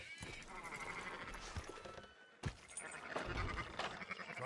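Sheep bleat in the video game Red Dead Redemption 2. Several brief bleats rise out of busy outdoor game ambience, with a sharp jolt midway.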